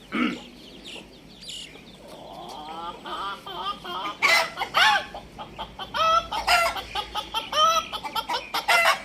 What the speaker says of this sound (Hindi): देखियो देखियो मुर्गो बाजै छै।